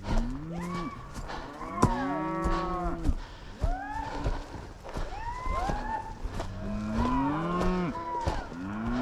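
Cattle on a mountain trail near a creek low repeatedly, with several overlapping moos rising and falling across the whole stretch, loud and close, and no talking.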